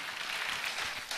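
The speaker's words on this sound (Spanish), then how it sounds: "Dale el aplauso al Señor." A church congregation applauding, a short burst of dense, soft clapping heard from some distance, fairly faint and without speech over it.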